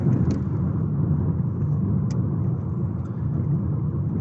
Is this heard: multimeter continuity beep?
no